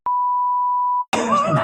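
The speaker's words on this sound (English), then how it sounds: "A lot of beeps in this one" A single sustained electronic beep sounds aboard an aircraft on a connecting flight, steady for about a second, then cut off by a burst of louder cabin noise.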